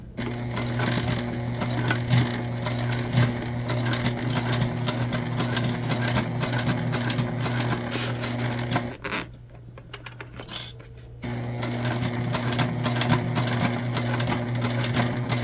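Sewing machine stitching through several layers of thick, chunky vinyl for a bucket bag, a steady close mechanical hum with rapid needle clatter that pauses briefly midway, then resumes.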